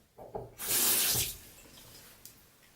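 Water runs from a sink tap in a strong, steady burst lasting about a second, with softer splashes before and after, heard during a wet shave.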